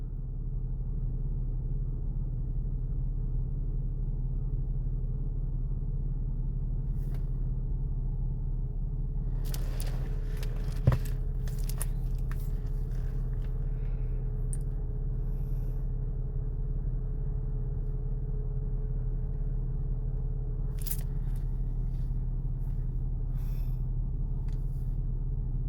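Steady low rumble of road traffic with trucks and cars passing at a distance, faint and continuous, with an occasional brief knock or hiss standing out.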